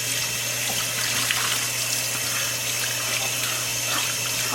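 Hot water runs from a tap in a steady, loud gushing stream while a puppy is bathed, with a low constant hum beneath the flow.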